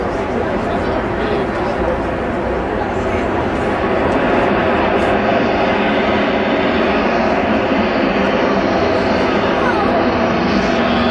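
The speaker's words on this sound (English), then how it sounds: "a Vulcan lines up on the runway" Jet engines of an Avro Vulcan bomber lined up on the runway at Farnborough, a loud steady roar that stays constant from start to finish with no pauses.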